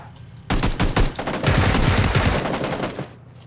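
Rapid automatic gunfire in PUBG, a battle royale shooter: loud close bursts of shots, first a short volley, then a longer sustained stream that tapers off.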